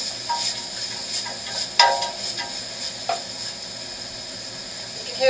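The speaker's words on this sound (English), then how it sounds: "It goes from a slow simmer to a delicious sizzle." Garlic soup with onions sizzling in a pan, a steady close hiss with a couple of sharp clinks from the cookware.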